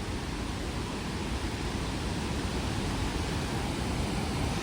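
Steady, loud rush of water roaring without pause, a broad continuous wash of water pouring over Peechi Dam in Thrissur nearby.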